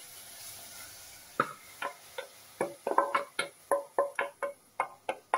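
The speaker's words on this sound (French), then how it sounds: "vous mettez vos oignons et vos poivrons que vous faites revenir" Onions and peppers sautéing in a pan for a tomato and goat cheese cheesecake, heard as a series of sharp, evenly spaced clicks and taps, close and fairly quiet, with a faint sizzle underneath and no talking.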